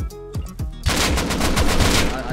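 AK rifle gunfire in the video game Rust: a few single loud shots, then a sustained rapid automatic burst, close and dominant.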